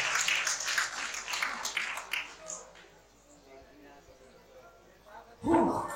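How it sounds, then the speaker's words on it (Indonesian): Audience applause greeting a speaker at an Islamic religious lecture, a dense wash of clapping for about two seconds that thins and fades out, followed by a voice starting to talk at the end. "Kita beri aplaus."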